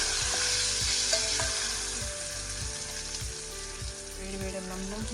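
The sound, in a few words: stirring coconut chutney tempering in a pan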